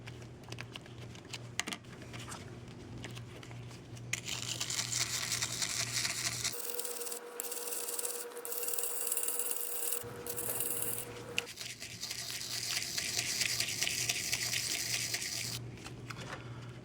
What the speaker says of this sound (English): I'm also going to use a brass brush.